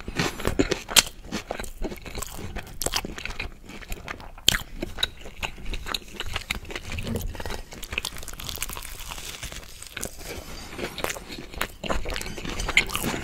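Close-up chewing of a homemade double decker kimchi cheeseburger, with wet bites, crunches and crinkling of wrapper, steady and intimate with no talking.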